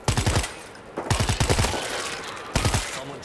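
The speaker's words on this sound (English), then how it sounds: "Someone's shooting." Gunfire in the zombie video game Dead of Winter, rapid automatic bursts in three clusters with rattling echoes between them, loud and close with no speech.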